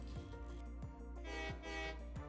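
A train in the Satisfactory video game rolls along with a steady low mechanical drone and rhythmic track clatter recurring about every second and a half, close and continuous, with no voices.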